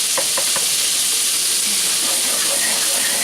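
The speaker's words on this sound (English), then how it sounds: "We're stirring this butter." Butter sizzles steadily in a hot cast iron pan as it is stirred, a bright frying hiss filling the clip with a few light scraping strokes near the start.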